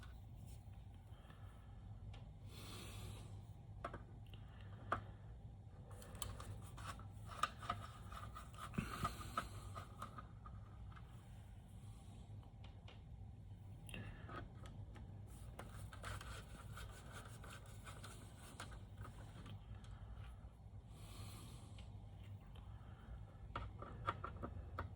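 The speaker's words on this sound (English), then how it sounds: "So that's going to require a different screwdriver here. All right, I'll take off these special screws." Small screwdriver turning and scraping out special screws on a Studer A820MCH 2-inch multitrack tape machine under restoration, faint continuous rubbing and light clicks over a low background hum, no talk.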